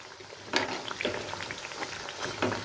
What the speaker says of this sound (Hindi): अब इनको हम फ्राई होने देंगे जब तक कि इनमें अच्छा गोल्डन कलर ना आ जाए